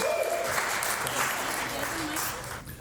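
An audience applauds steadily at a jazz concert, a dense and continuous clapping that runs the whole time, with a voice speaking over it.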